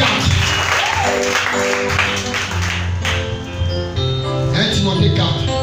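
A church congregation applauds the Lord during a French-language sermon, a dense burst of clapping mixed with voices and cheering, with music tones underneath.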